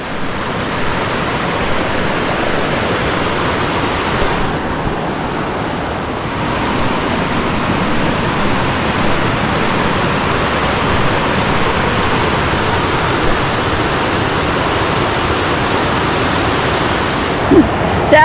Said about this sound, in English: You got access here to the river.